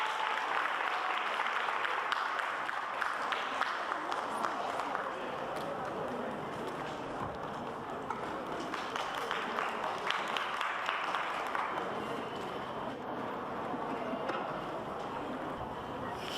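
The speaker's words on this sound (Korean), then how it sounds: "여러분 박수로 환영해 주십시오." An audience at the 29th World Korean Speech Contest, foreign participants' division, applauds to welcome a speaker; a dense, even wash of clapping continues throughout.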